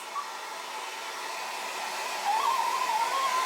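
A hair dryer blows on a frightened dog, a steady, fairly quiet whir that keeps going throughout and rises slightly toward the end, with no talking.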